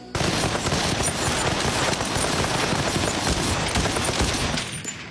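A firing squad shooting blanks in a film scene lets off a dense, continuous volley of rapid cracks, loud and unbroken for about five seconds before stopping abruptly.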